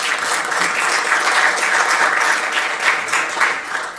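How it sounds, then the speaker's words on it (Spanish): Steady audience applause at a public-policy training session, dense continuous clapping from a crowd that holds level for the whole span without speech. "Un aplauso para los dos."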